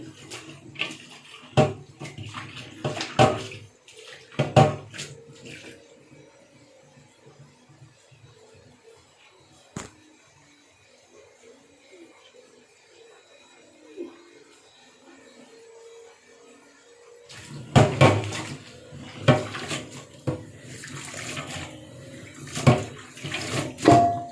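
Tap water runs while Batak onions are washed clean of sand for a Batak-style carp dish, with loud splashing and rinsing bursts at the start and again near the end around a quieter middle stretch.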